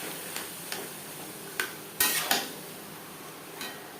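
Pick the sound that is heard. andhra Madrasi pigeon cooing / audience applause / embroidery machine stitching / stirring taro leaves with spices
stirring taro leaves with spices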